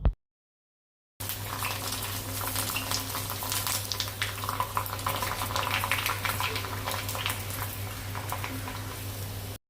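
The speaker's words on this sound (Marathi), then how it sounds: "आता यातले 1-2 पापड तुम्हाला तळून दाखवते" After a moment of silence, sabudana (sago) papad crackle and bubble continuously in hot oil, a dense, fairly loud frying hiss with no talking.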